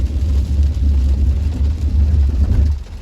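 An Audi S4 quattro on winter tyres brakes hard from about 50 km/h on a snowy road, its ABS engaged; a loud, deep rumbling road and engine drone fills the few seconds without talk.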